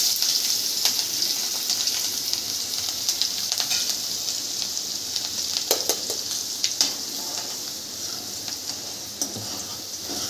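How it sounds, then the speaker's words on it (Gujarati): Garlic masala and curry leaves sizzle in hot oil with cumin, asafoetida and carom seeds for a spiced roti dish, a steady bright crackle with scattered sharp pops, close and moderately loud, no voices. "હવે આપણે આ લસણ મસાલો લીમડો નાખી દેવાનો છે."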